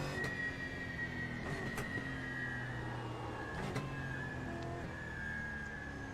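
A race car engine in the iRacing sim, a stock-car-like machine compared to a Corolla, hums steadily with tonal whine and rising and falling pitch sweeps, faint and continuous without talk.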